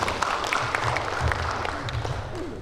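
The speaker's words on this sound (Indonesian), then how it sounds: "Tepuk tangan buat beliau." Audience applause at the opening of a court clerks' technical guidance event in East Kalimantan, a steady patter of clapping from a crowd, moderately loud and continuous, with some low voices underneath.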